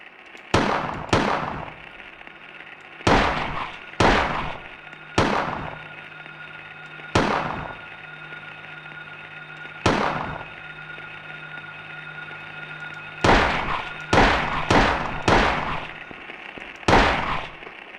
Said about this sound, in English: Just aim and fire whenever you desire.